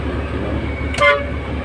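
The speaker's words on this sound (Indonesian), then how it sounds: "Nah, ini untuk klakson kecil dan klakson besar." A single short blast from a HOWO dump truck horn sounds over a steady low engine rumble, brief and fairly loud, then the engine drone continues.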